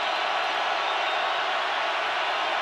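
Dense, steady roar of a stadium crowd at an NFL game between the Seahawks and Panthers, a loud continuous wash of noise with no distinct voices standing out.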